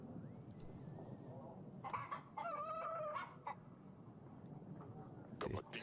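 A rooster in a medieval kingdom-management video game crows once in a faint, far-off cock-a-doodle-doo over steady background ambience. Scattered clucks and clicks come before and after the crow.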